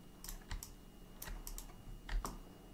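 Computer keys are pressed one at a time while someone works in Allplan CAD software. The clicks are close, quiet and irregular, with a brief pair near the end.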